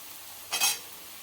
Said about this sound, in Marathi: मसाला तळेपर्यंत गॅसची फ्लेम वाढवायची नाही छान अगदी तळून घ्यायचं आहे